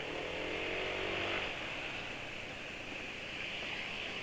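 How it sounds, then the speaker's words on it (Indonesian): A Yamaha NMAX scooter engine running Adnoc Voyager Bronze 20W-50 oil idles with a rough, buzzy, uneven sound, loud and close, with a steady hiss throughout. "Suara mesin juga agak kasar"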